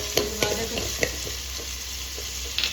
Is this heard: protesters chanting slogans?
no